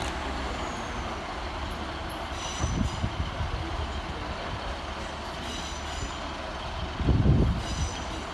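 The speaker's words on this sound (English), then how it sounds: "Arriving next into the station will be 150-284, working the 1530 Transport for Wales service from Aberdare through to Merthyr Tydfil." Transport for Wales class 150 diesel train arriving at a city station platform, a low rumbling engine and wheel noise with brief louder surges and faint squeals, moderately distant and steady, no voices.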